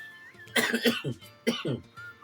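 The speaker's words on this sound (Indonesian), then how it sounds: "sorry agak batuk" Two short bursts of coughing, a few harsh coughs each, close up and fairly loud, separated by a brief quiet pause.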